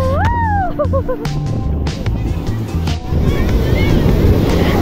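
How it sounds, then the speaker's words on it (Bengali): Sea waves at Old Digha beach break against a paved, sandless shore, a loud continuous wash of surf with wind buffeting the microphone, while a horn-like tone and low engine-like hum sound near the start. "ঢেউ উঠে জাস্ট এই ডাঙাটাতে আছাড় মারছে"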